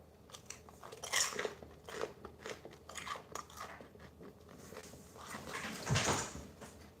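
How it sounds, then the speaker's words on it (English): Crunchy, burnt fried chicken is bitten and chewed close to the mic, with a string of sharp crackling crunches and a louder bite near the end, and no talking. "Let's listen to the crunch."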